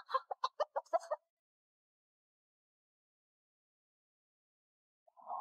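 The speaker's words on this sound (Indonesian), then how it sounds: "ayam kecil cepat keluar" A small chicken gives a quick run of about eight sharp, close clucks in the first second, then silence, and a short further cluck or squawk at the end.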